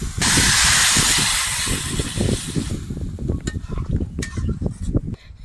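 Water hits a hot pan of spiced potatoes and fried duck eggs with chili powder, bursting into a loud steamy hiss that fades after a few seconds into close, rhythmic stirring and bubbling.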